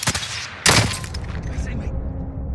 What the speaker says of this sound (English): I'm gonna start shooting at him right now.